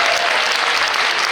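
A festival crowd at Luchon gives a dense, loud burst of continuous applause to welcome actress Ingrid Chauvin on stage.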